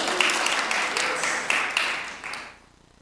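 Audience applause at a community summit, a steady wash of many hands clapping that holds for over two seconds, then tapers off and fades to near silence.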